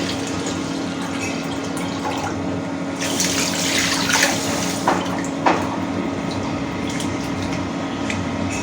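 Cold tap water runs steadily over a pot of leftover dal being rinsed at a sink, a continuous close splashing stream that grows louder and more turbulent midway, with a few sharper splashes and clinks.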